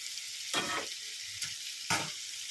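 Stuffed eggplant in onion-chili masala sizzles steadily in a pan as it fries. Three distinct scraping strokes of stirring cut through the constant frying hiss.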